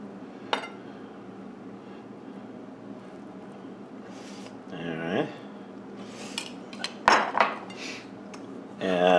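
Cooked lentils are spooned from a pot onto spiced basmati rice while making Egyptian koshari, with scattered metal spoon scrapes and clinks against the pot and a few louder clanks over a quiet kitchen background.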